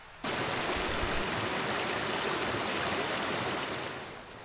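Creek water flows in a steady, even rush that starts abruptly and tapers slightly at the end, with nothing else heard over it.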